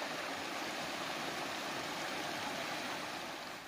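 A swollen stream rushes across a flooded hiking-trail crossing after a downpour, giving a loud, continuous broadband roar of churning water with no voices.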